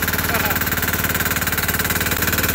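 A Sears Suburban garden tractor with a 6HP diesel engine drives in second gear, high range, its loud, close, rhythmic diesel chug thumping steadily throughout.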